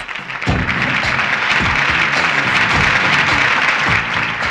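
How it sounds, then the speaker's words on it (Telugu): A crowd at a college prize ceremony breaks into loud, dense applause, a sustained roar of many hands clapping that starts suddenly and holds steady throughout. "క్లాప్స్!"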